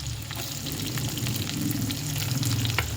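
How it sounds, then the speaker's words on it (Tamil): Chopped onion, curry leaves and coriander sizzle and fry in hot oil for an avarakkai thokku. The crackle is steady, close and continuous, with no voices. "இப்போ அடுத்தது வந்து கட் பண்ணி வச்சுருக்க வெங்காயம், கருவேப்பிலை, கொத்தமல்லி. ஸோ இது கூட நம்ம இப்படி ஆட் பண்ணுறோம்."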